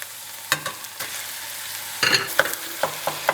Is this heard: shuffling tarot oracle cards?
no